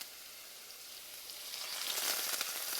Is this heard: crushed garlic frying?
yes